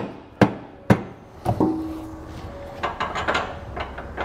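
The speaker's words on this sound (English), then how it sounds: "take a rubber mallet and just sort of persuade it to get everything to line up there" Rubber mallet tapping a Curt trailer hitch receiver into place on a 2020 Mitsubishi, a few sharp close knocks followed by lighter clunks and rattles of metal settling.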